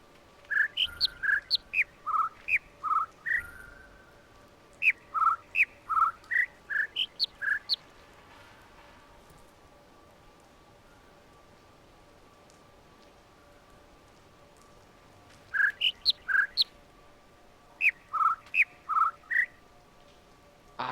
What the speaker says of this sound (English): It's 2 sets of birds.